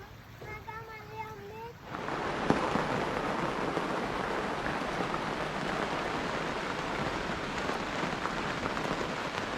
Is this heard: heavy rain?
yes